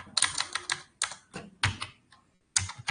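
Someone types on a computer keyboard while writing HTML code, producing quick clusters of close, crisp keystrokes in an irregular rhythm, with short pauses between bursts and no talking.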